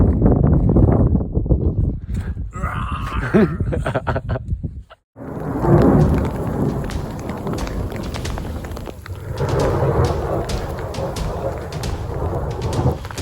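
A mountain thunderstorm in the Wind River Range catches backpackers on the trail, with loud rumbling thunder, steady heavy rain and a rushing wind, while footsteps hurry along and hikers speak now and then underneath.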